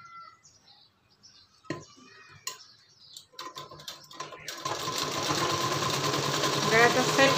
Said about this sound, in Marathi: आता हे आपण स्टिच करून घेऊ.